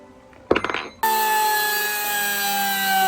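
A power tool cuts through a steel shifter tube on a transfer case modification. A few sharp clattering knocks come first, then a loud, steady, high whine runs unbroken for about two seconds, with no talk.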